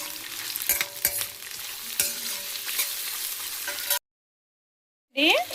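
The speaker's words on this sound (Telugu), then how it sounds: "ఇప్పుడు ఇది బాగా ఫ్రై అవ్వనివ్వాలి" Spices and black peppercorns frying in a pan, a close crackling sizzle with sharp stirring taps and scrapes, then a second of silence before a brief resumption.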